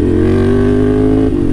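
A heavily modified, tuned 2018 Ducati Scrambler with exhaust work holds a loud, close, steady engine drone with a deep throbbing exhaust tone that dips slightly at the end.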